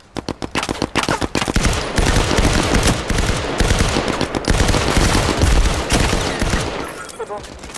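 Rapid automatic gunfire in the VR shooter Firewall Zero Hour on PSVR: a quick string of sharp shots, then a long, loud, dense stretch of sustained firing, with a voice faintly underneath.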